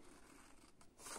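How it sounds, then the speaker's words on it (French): Scissors cut paper quietly for a second, a faint snipping rustle that swells into a brief crisp slice at the end. "Donc je découpe avec des ciseaux."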